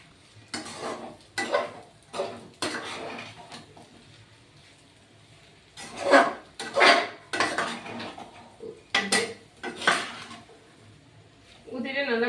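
Pasta being stirred through sauce in a pan at home, giving repeated bursts of clinking and scraping from a utensil against the pan, separated by short pauses, with faint voices or kitchen noise between strokes.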